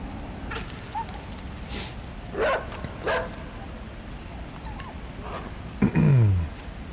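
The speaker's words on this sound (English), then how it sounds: "we heard the dog barking when I came through before" A dog in a video game barks and yips a few scattered times, with a louder whimpering bark near the end, over a low background of game ambience.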